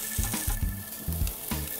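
Marinated duck pieces laid skin-down on a Char-Broil grill sizzle and crackle, a close, steady frying hiss punctuated by brief clanks and scrapes of handling.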